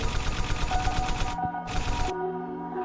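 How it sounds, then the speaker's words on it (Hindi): Dense, rapid bursts of gunfire from militants firing down inside a hotel building crackle continuously for over a second, then break off and return in a second short volley before fading into a ringing hum. "ऊपर की ओर से आतंकी गोली चला रहे थे।"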